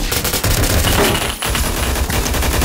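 Machine pistol in the shooter game Phantom Forces, firing rapid, loud automatic bursts at close range that run almost continuously with a short pause midway, with no talking.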